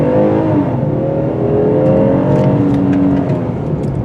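A 3.8 liter V6 in a 2024 Kia Telluride SX XPRO AWD pulls steadily under acceleration, a loud, sustained engine drone with rising harmonic tones and no voices.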